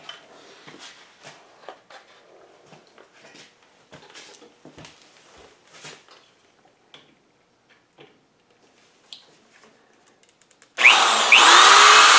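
A power drill used while installing a Vega U26 fence on a Delta 6000 table saw: quiet handling clicks and taps for about ten seconds, then the drill bursts in loud and close, running steadily to the end.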